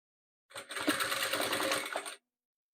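A sewing machine stitches patchwork pieces together in one steady, close two-second burst, with the needle running at an even pace before stopping abruptly.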